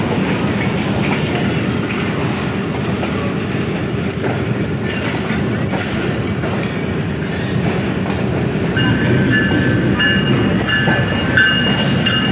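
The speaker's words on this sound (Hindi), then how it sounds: "ये भी एक ट्रेन कोटड़ी अराइवल कर रही है।" A train pulls into Kotri railway station in Pakistan, its wagons rumbling and clacking loudly and continuously, with a faint wheel squeal near the end.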